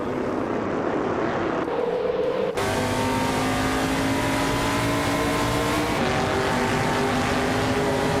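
A 1971 Dodge Charger race car in a racing video game drones continuously at high revs, with abrupt gear shifts partway through and near the end, loud and close throughout with no voices.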